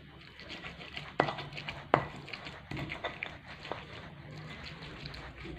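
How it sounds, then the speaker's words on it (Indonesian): Fried chili being ground for sambal in a stone mortar, with irregular close knocks and scraping grinds, two sharper thumps near the start, continuing softly, no voices. "Kita ulek dulu cabenya biar halus."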